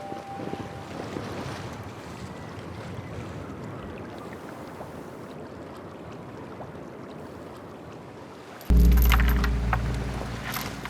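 A sailing boat crosses open sea in a steady wind, with constant broad wind and wave noise rushing past the microphone, then a louder, closer burst of wind and water near the end.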